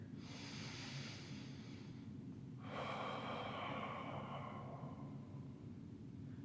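Heavy, steady breaths while a core exercise is held: a long breathy exhale, then a louder, fuller one, close and clear over a low constant hum.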